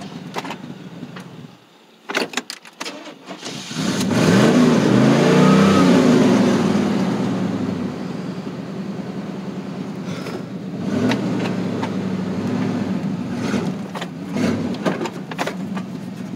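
A 1989 Chevrolet Silverado engine runs with a miss on old fuel, rising into a loud, steady drone that surges and then settles to an uneven idle, with faint clicks and knocks around it.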